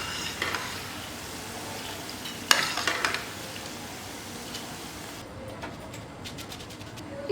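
Green cauliflower chilli frying in hot oil, a steady close crackling sizzle with a burst of clattering spoon-and-pan scrapes midway, then a quieter bubbling fry with faint taps, no voices.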